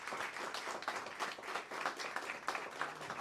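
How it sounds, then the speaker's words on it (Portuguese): An audience applauds a speaker being welcomed at a talk, dense continuous clapping at a moderate distance with no voices over it. "Eu quero uma grande salva de palmas para Juliana Tiedemann"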